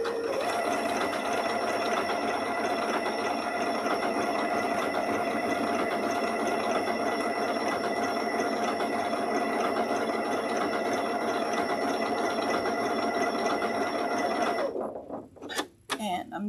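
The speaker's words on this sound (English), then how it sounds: "Set my needle down right next to my applique, and away we go." A sewing machine stitching an applique runs steadily and close for about fourteen seconds with a constant whirring hum, then stops, followed by a few soft handling clicks.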